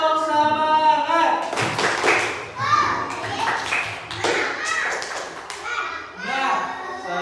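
Children in an Indonesian classroom perform a rhythmic spirit clap, sharp claps in patterned bursts mixed with chanted voices calling out together, loud and close.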